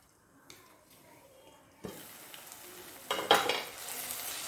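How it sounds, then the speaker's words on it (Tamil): Onion, tomato and ginger garlic paste sizzle in a pan while being stirred, soft frying hiss with scraping and metallic clatter of a spoon growing louder near the end, close and alone. "நல்லா இப்போ கிளறி விட்டு மூடி போட்டு லோ ஃப்ளேமில் ஒரு நிமிஷம் இதை வைப்போம்."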